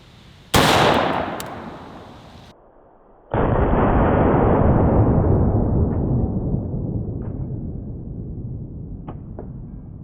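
A 5.56 rifle fires hollow point rounds, two loud sharp blasts a few seconds apart, each followed by a long fading echo, with a few small clicks and knocks afterward.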